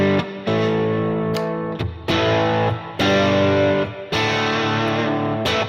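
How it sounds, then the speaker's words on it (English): Electric guitar chords through a very mild overdrive pedal, with a light grit, strummed in several sustained bursts separated by short pauses, loud and close. "that's a very, very, very mild overdrive"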